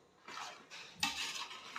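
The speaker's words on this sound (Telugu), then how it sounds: "కొబ్బరి ప్లస్ బెల్లం మొత్తం కలిపేటట్టు మనం తిప్పుతూనే ఉండాలి" Coconut and jaggery syrup being stirred together in a pan for coconut laddu, giving soft scraping and clinking strokes of a utensil against the pan, close and fairly quiet, with no voices.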